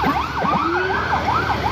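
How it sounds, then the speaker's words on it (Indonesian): An ambulance siren wails in a rapid, repeating rising-and-falling pattern as it passes close by, heading downhill, over steady road and engine noise. "ambulan ya, melintas menurun ya"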